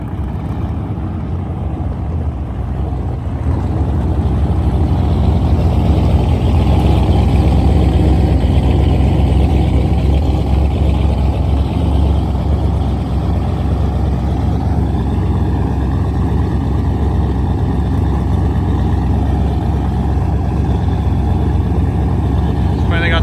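A turbocharged LS-swapped Ford Fairmont idles at a drag strip, its loud, steady low rumble running continuously and close by, with a slight rise in level after the first few seconds and background voices faintly mixed in.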